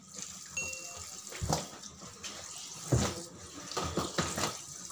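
Tap water runs steadily into a washing machine drum while curtains are being washed, a continuous close splashing stream with a few brief surges.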